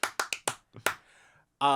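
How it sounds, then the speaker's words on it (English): About six sharp hand claps in a quick, uneven burst, close to the mic, followed by a brief voice at the end. "Make sure you clap hard enough."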